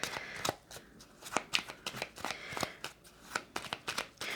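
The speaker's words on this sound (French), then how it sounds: "je vais juste placer les cartes, puis vous choisissez celle qui vous appelle" Oracle cards being laid out on a table, a quick series of soft papery slaps and flicks at close range, irregular but steady, with no talking.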